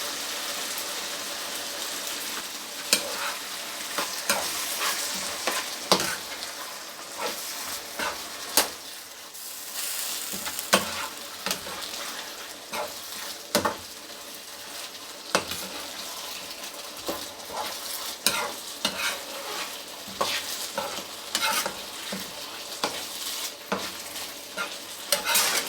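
Tomato sauce being stirred into mashed potatoes in a pot on the stove, a soft low sizzle beneath repeated scraping and knocking strokes of a spoon, close and uneven over a long stretch without talk.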